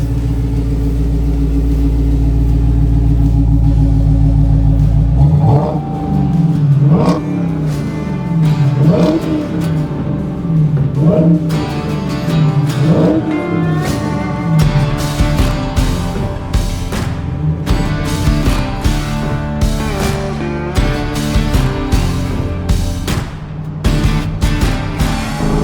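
A 2023 Dodge Challenger SRT Hellcat Jailbreak, a 717 hp car, idles with a deep rumble from the exhaust at the rear, then is revved hard in repeated loud rising blips and longer pulls, each swelling and falling away.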